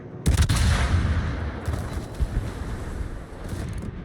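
Heavy naval gunfire from a Des Moines cruiser battle in World of Warships, a loud close salvo boom that rolls into a long rumbling decay, followed by more distant thuds.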